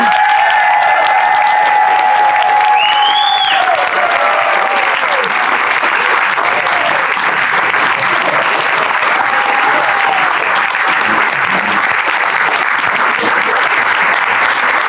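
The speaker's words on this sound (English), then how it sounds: "Give all the candidates a round of applause." An audience at a Hawaii legislative candidate panel applauds the candidates with loud, sustained clapping and some cheering, while a speaker's voice carries faintly over the start.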